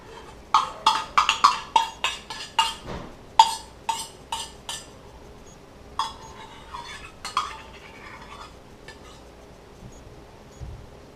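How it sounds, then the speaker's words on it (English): A metal spoon clinks and scrapes against a bowl of yogurt in a quick flurry of taps, then slower, scattered scrapes, close and with no talking. "I'm going to have to just scoop this out with a spoon"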